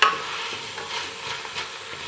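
Courgette simmers in oil in a pan, giving a steady soft sizzle with faint stirring scrapes, close and quiet with no voices.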